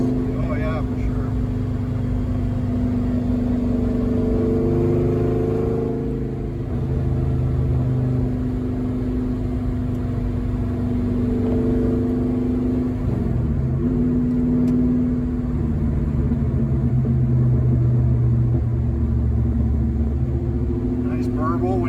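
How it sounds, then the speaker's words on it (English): Car engine burbling and rumbling as the driver lets off the gas, a deep, steady drone with shifting tones running continuously beneath occasional conversation inside the cabin. "Nice burble when you let off the gas."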